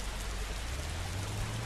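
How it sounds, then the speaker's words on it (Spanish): Heavy rain falling steadily in the Roblox game Bloxburg, a dense continuous hiss of downpour with no pauses, fairly quiet and even throughout, no voices over it. "La lluvia está potente, chicos, la lluvia está potente."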